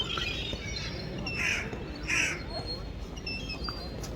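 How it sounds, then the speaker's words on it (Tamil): Crows caw in Norway, several short harsh calls rising above constant outdoor background noise at moderate distance. "இந்த ஊரில் காக்கா கூட இருக்குங்க."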